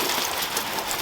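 Water spray rinses over a car, a dense steady hiss of droplets pattering on the bodywork with no pauses.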